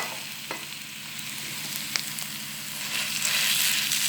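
Minced meat kofta sizzles in a pan with browned onion, a steady close frying hiss with small crackles and pops that grows slightly louder toward the end.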